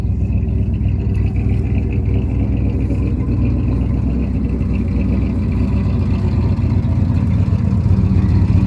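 A Ford F-series pickup fitted with a fifth-wheel hitch and dump bed runs its engine nearby, a steady low rumble that holds even and loud throughout with no talk over it.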